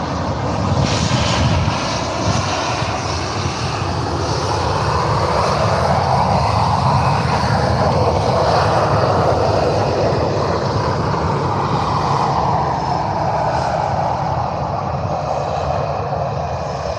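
TUI airliner in Robinson livery at Faro airport, a loud sustained jet engine roar that swells toward the middle and stays strong to the end, close and unbroken, with no talking.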